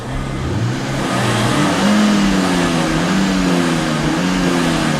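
A car engine revs up and down repeatedly as the driver pumps the throttle pedal, pitch climbing and dropping in uneven surges, loud and close throughout with no talk.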